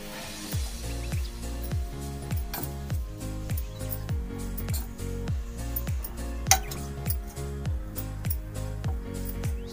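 Finely chopped green chilli and coriander leaves being mixed in a bowl, a steady series of soft clinks and scraping taps of a utensil against the bowl, repeating roughly every half second, with no talking.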